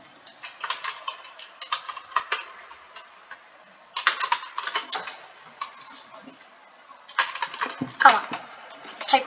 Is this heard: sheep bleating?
no